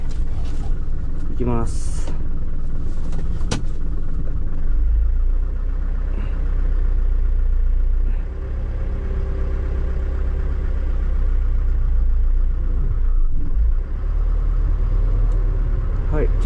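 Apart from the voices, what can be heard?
vehicle engine while reversing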